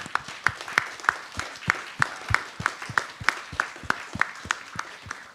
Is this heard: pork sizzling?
no